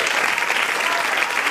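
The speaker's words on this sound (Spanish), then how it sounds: "Give him a round of applause." Dense, steady audience applause, loud and close, a brief burst of many hands clapping together at a talk.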